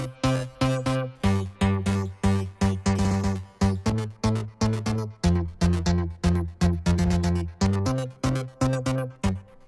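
Synthwave synth bass run through a low-pass tremolo filter preset, a steady pulsing pattern of punchy, harmonically rich bass notes with rhythmic swells, loud and alone.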